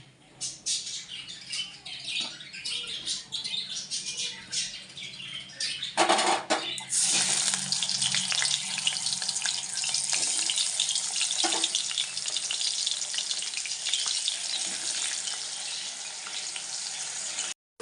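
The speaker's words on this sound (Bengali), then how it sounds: "তেলটা গরম হয়ে গেলে মাছগুলো এক এক করে ছেড়ে দেব।" Koi fish are dropped into hot oil: a faint, quieter start, then a sudden loud, steady sizzle that begins about six seconds in and continues unbroken to the end.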